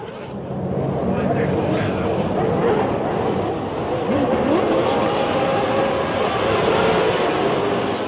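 Formula 1 cars from the 1993 season roar away at the last race start, a dense, loud engine wall that holds steady throughout beneath continuous commentary.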